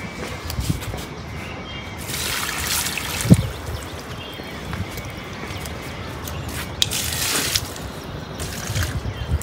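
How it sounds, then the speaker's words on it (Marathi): Water is poured onto potted plants in a terrace garden, a soft trickling splash that rises in a few bursts, with light knocks and handling noises in between. "तर इथे आता झाडांना पाणी टाकून देते."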